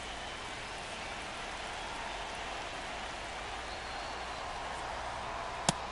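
Steady rain falls across a baseball stadium in MLB The Show 25, a dense even hiss of drops that holds without a break, with one brief sharp click near the end.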